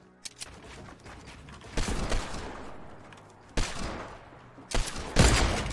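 Gunfire in the Fortnite video game comes as a rapid volley of shots over a dense, noisy game mix, with several louder bursts near the end.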